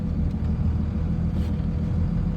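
A 1998 Dodge Ram 2500 Cummins diesel 4x4 with a five-speed manual pulls away in low first gear, its engine giving a steady, deep, close rumble with no break.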